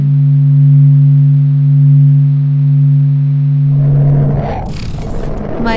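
Sonified rendering of the Sun: steady, loud low sustained tones with faint harmonics hold for about four seconds, then dissolve into a noisy, rushing wash with bright hiss near the end.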